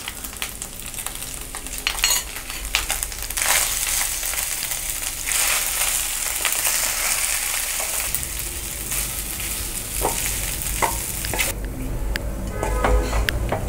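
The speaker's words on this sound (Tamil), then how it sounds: "இந்த பொடியும் நம்ம மிக்ஸ் பண்ணிக்கலாம்" Ground sesame powder stirred and mixed into cooked rice in a pan for sesame rice, a steady scraping, stirring texture with utensil clinks, continuous and close, no talking.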